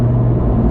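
BMW M3 engine heard from inside the cabin, a loud steady low droning rumble with no other sounds over it.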